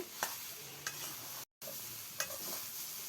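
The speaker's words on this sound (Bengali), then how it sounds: "এবার এগুলো ভালো করে ভেজে নেবে আর একটু মশলা বাটাও দিবে।" Potatoes stir-fry in a pan in a village kitchen, with a soft, steady sizzle and a few light scrapes of a spoon stirring them. Faint and fairly even throughout, with one brief dropout midway.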